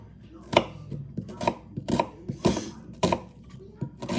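A knife chops onion on a board in quick irregular strokes, about eight distinct sharp thuds with softer taps between them, close and clear with no speech.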